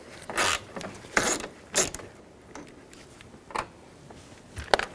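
A socket wrench ratchets out 10mm mirror nuts on a 2002-06 Chevy Avalanche, giving several short, close ratcheting bursts separated by quiet pauses.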